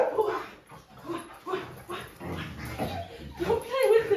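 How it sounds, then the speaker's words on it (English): Dog barking and yipping in short bursts outdoors during a focus-training session, close and fairly loud, with someone talking over and between the barks. "Oh, he's barking again."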